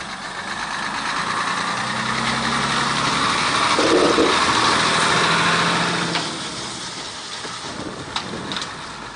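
Vehicles cross a damaged, shaking bridge, giving a steady engine rumble from passing traffic that swells in the middle and eases, with a few sharp knocks near the end.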